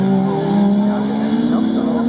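A Trabant car's small engine drones steadily at close range at a rally, a buzzy, rough two-stroke tone holding fairly constant throughout.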